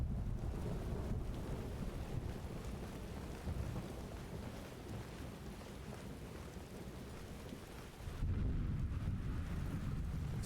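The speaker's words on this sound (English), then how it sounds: "Let's hope it stops raining eventually." Rainstorm with thunder in the video game Skyrim, steady rain hiss over a low rolling rumble of thunder that swells and surges louder near the end.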